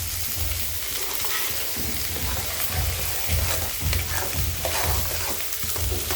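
Radish and garlic sizzle and fry in a pan, a steady crackling hiss with occasional stirring scrapes throughout, no talking.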